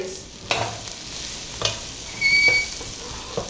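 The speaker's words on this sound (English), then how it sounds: "Then we'll add our peppers and our onions. And we want to hear that sizzle." Peppers and onions hit a hot pan on an electric stove, giving a soft continuous sizzle broken by a few sharp stirring scrapes and clacks, close and moderately loud with no talking.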